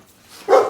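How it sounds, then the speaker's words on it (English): Dogs barking in the background near a garage where go-kart wheels are being cleaned, a short burst that swells suddenly near the end after a quiet lead-in, fairly distant. "Oh man, the dogs are going off."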